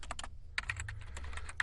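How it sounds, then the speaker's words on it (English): Rapid typing on a computer keyboard, with a dense run of quick, close key clicks and a brief pause partway through, over a low steady hum. "His fingers glide over the keyboard"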